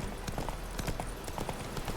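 Roach, a horse in The Witcher 3, clip-clops at a steady walking pace with crisp, fairly close hoof strikes throughout, with no voices.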